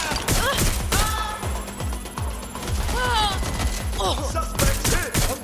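Rapid bursts of gunfire in a Watch Dogs game firefight, loud and dense with repeated shots crackling across the whole stretch, mixed with game music and voices.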